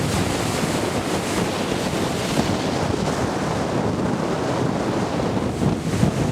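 Loud, steady roar of surf with heavy wind buffeting the microphone, waves crashing continuously with no pauses, lashing the Lummi Island ferry dock on a windy day.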